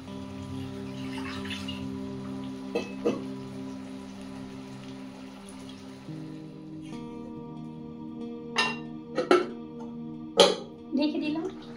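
Water is poured into chicken curry with pointed gourd in a pan, a splashing pour with several sharp splashes and clinks toward the end, over steady hum and background sound.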